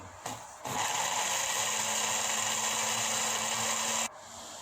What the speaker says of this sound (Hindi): अब दूसरे मसाले डालकर इनको भी ग्राइंड कर लेंगे।